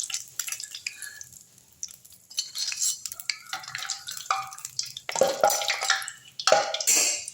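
Murukku fry in hot oil with uneven bubbling and crackling bursts that swell and fade, sometimes near-silent in between, ending in louder sputtering surges.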